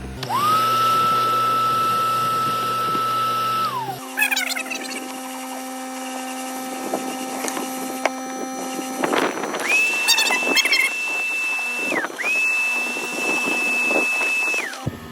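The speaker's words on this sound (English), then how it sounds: "I'll do drill brush and pre-vac now." A drill brush whines at steady pitch, stops, then runs again with scrubbing and brushing noise as it scrubs a rug, close and loud throughout.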